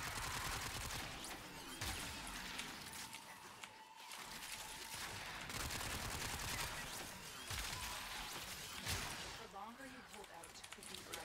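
Repeated bursts of gunfire ring out in the Warframe video game, with rapid weapon shots and impacts layered under a player's talking.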